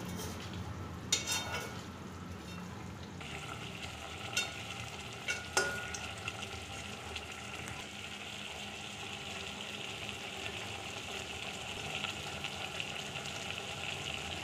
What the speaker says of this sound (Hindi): लगातार इसे चलाते रहेंगे, नहीं तो नीचे लग जाएगा, जल जाएगा थोड़ा।